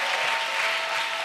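Dense, steady applause fills a church during a French-language missionary retreat, a continuous wash of many hands clapping at even volume throughout.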